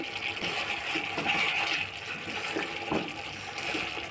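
Milk poured into a cauliflower curry in a pan after the spices are fried: a steady liquid gush and sizzle with faint splashing, close and fairly loud, no talking.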